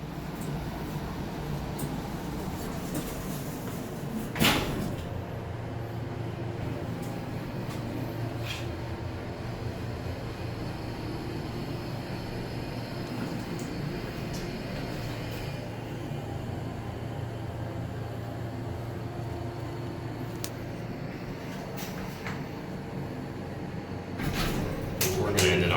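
A hydraulic elevator at a Best Western Plus in Sarasota travels between floors, with a steady low motor and pump hum running throughout, a sharp thump early on and faint clicks and rattles.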